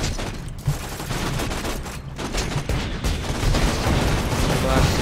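Dense gunfire from many directions in the Borderlands 2 video game, a steady, loud barrage of overlapping shots and explosive bursts that runs for about five seconds.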